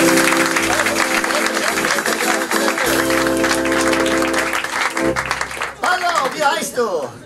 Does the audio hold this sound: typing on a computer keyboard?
no